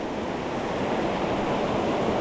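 Fast-moving stream water in Southern California's backcountry trout country rushes steadily and close by, a dense unbroken roar with no voices.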